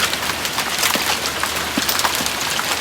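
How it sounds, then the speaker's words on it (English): Hail coming down during a storm, a dense, steady patter of stones striking surfaces nearby, continuous and fairly loud with no voices. "Look at all that hail falling from the sky."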